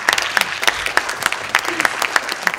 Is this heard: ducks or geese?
no